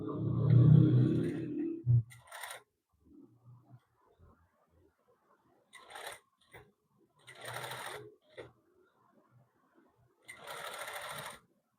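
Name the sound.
sewing machine stitching suit hem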